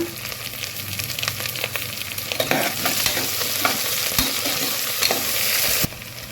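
Loud sizzling of curry leaves, onion pieces, ginger and garlic frying in hot oil with scraping and stirring clatter, crackling steadily close by before briefly dropping quieter near the end.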